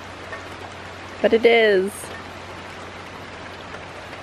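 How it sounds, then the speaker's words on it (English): Heavy rain pours down steadily through the whole stretch, a dense constant wash of drops, while a person speaks briefly over it near the middle. "It's raining so hard."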